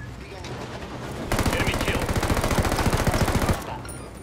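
Loud, rapid automatic gunfire in Ghost Recon Wildlands erupts after a quiet start and rattles continuously for about two seconds before cutting off into low background ambience.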